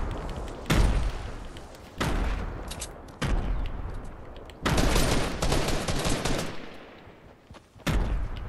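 Gunfire from an exotic weapon in the video game Fortnite: several loud, heavy shots spaced a second or so apart, each with a booming tail, no talking.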